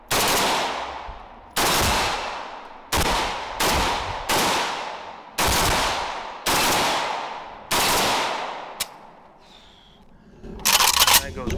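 An AK-pattern rifle chambered in 5.56, a Zastava, fires about eight loud, close single shots at an uneven pace, each with a sharp crack and a short ringing tail, followed by quieter shuffling and a brief burst of noise at the end.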